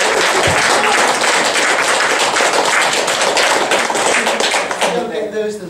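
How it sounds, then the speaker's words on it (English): An audience at a research talk with Baroness Doreen Massey breaks into a loud, sustained round of dense clapping that fills several seconds before tapering off at the end. "Can we do a round of applause first?"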